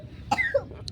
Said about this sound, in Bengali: তোর তো কাশি হচ্ছে তাই তো?